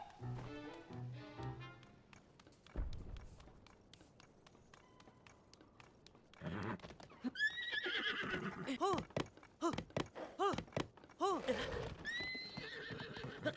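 A horse in the Zelda video game neighs and whinnies several times over clip-clopping hooves, following a stretch of game music and soft background sounds; the whinnies are loud and repeated in the second half.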